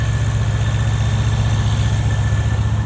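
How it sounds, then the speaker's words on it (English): A 2025 Porsche Panamera GTS V8 engine idles steadily and close by, a deep, even rumble with a faint high whine above it, with no voices. "They've also improved the engine acoustics, and I can attest, it sounds fantastic."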